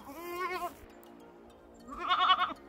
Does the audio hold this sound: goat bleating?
yes